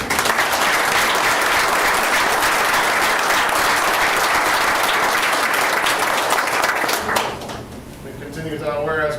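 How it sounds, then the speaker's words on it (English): Sustained applause fills a city council work session and meeting room, steady and full from many hands for about seven seconds before fading as a voice begins speaking. "That's a round of applause right there."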